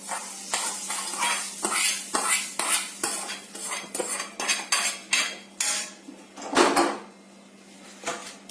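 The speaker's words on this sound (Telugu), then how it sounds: "ఇదంతా కలిపి నీట్గా మొత్తం బాగా కలిసేలాగా కలుపుకున్నాము." A spoon stirs a hot tempering with asafoetida into a mango-coconut chutney, making a brisk series of close, rhythmic clinks and scrapes against a metal bowl, with a few sharper knocks and no voices.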